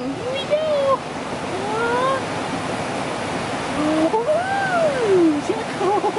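River water rushes in a steady broadband wash throughout, with people talking over the flow.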